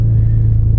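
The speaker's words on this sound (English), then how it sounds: "I'm going to turn on my car" A 2015 Porsche Macan engine idling just after starting, a steady, loud low rumble held evenly throughout, close up and without talk.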